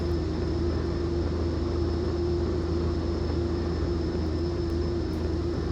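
The Pilatus PC-12 turboprop in X-Plane idles while parked, a steady, loud, unbroken drone with a constant hum that neither rises nor falls.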